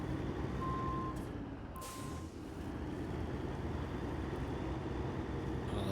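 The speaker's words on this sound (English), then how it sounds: "Oh, it's a long old truck," A long truck in SnowRunner reverses through mud, two steady backup beeps sounding over a constant heavy engine rumble, with a hiss like an air brake near the start.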